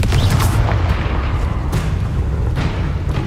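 A Confringo fire spell bursts in the game Hogwarts Legacy, a series of loud booming explosions with sharp cracks at the start and again near the middle and end, set against a dense, rumbling battle background.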